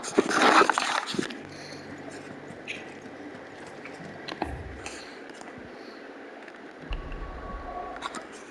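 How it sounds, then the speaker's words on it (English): A dog in the video game Final Fantasy XVI gives a short, fairly loud burst of barking or whimpering at the start, followed by quiet ambient game sound with faint thuds. "Dog."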